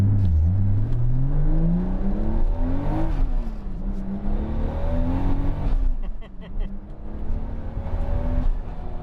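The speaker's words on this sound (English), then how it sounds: "One of the best parts about the 2JZ, of course, is its sound, especially with a single turbo setup and anti-lag, two-step." A Mk4 Toyota Supra widebody with a 2JZ engine and single turbo revs hard, its pitch climbing, dropping and climbing again in loud, close sweeps with a whooshing turbo edge and crackling toward the end.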